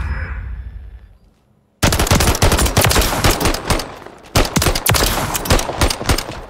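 Rapid bursts of automatic shotgun fire in a video game, loud and close, in dense volleys that pause briefly midway and then resume.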